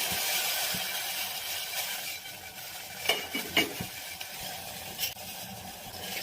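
Moong beans being stirred in a pot with a little salted water on a gas stove: soft scraping and scattered clinks of a spoon against the pot over a faint sizzle, fairly quiet and close.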